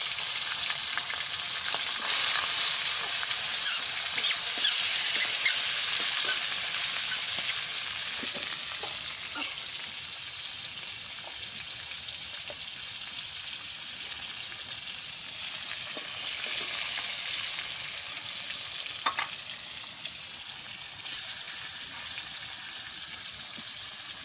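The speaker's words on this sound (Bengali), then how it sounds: "মাছ দিয়ে দিচ্ছি, তেল গরম হয়ে গেছে" Fish sizzles steadily in hot oil for the whole stretch, a dense, even crackle with a few brief spatters and faint clinks, close and fairly loud, with no talking.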